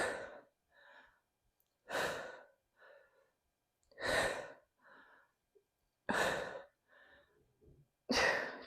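Heavy breathing during back and biceps workout reps: loud sharp exhales roughly every two seconds, each followed by a quieter inhale, close to the microphone in a steady rhythm.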